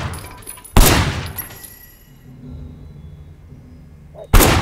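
Gunshots ring out in the video game Sleeping Dogs: two loud, sharp bangs a few seconds apart, with quiet background hum between them.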